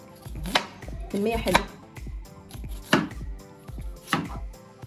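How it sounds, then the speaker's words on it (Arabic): Knife chopping onion into rings on a board, several sharp close chops in uneven rhythm with a brief low spoken remark among them. "هنا بنقطع البصل ايه؟ حلقات كده"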